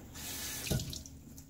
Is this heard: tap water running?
yes